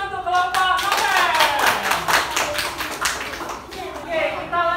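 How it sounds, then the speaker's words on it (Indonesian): A classroom group claps for the novel group's presentation in a brisk burst of hands, loud and close, with voices speaking over and between the claps. "Tepuk tangannya untuk kelompok novel"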